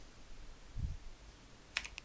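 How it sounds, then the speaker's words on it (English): A few faint keypresses on an alphanumeric computer keyboard in a quiet room, with a soft low thump early on and a quick cluster of three or four light clicks near the end. "I'm just pressing 7 on my alpha keyboard, alpha numeric keyboard"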